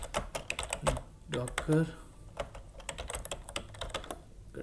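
Typing a docker command on a computer keyboard, a brisk run of close, crisp key clicks in uneven bursts while someone speaks Hindi over them.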